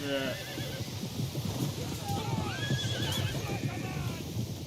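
Horses whinny and hooves clatter amid a medieval battle in a Crusader Kings 3 Total War mod, several neighs rising over a steady rumble of fighting noise, with a voice talking over it throughout.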